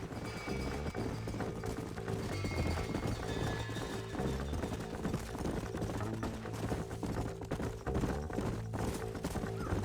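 Horses gallop at speed in the Western video game Red Dead Redemption, a dense rapid drumming of hooves running continuously throughout, loud and near, layered with game music and ambience.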